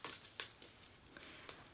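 Category cards for a reading challenge game shuffled by hand, a few quick papery riffles and slaps spread across under two seconds, fairly faint and close, with no talking.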